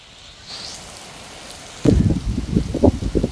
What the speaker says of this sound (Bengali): হেভি বৃষ্টি শুরু হয়ে গেছে, অনেক রেন।